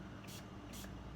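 Two short hissing bursts of 99% isopropyl alcohol sprayed into the small cavities of a honeycomb soap mold, each lasting about a tenth of a second, close up over a steady low hum.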